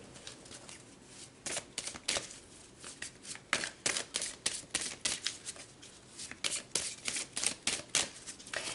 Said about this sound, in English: let's pull some more cards and go deeper